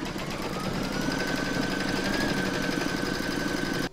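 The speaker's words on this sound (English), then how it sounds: "You're now going to pop that back into your machine and stitch round number 6" An embroidery machine stitches a round of an in-the-hoop fabric coaster, a fast steady mechanical chatter with a whining motor tone, close and continuous without voices.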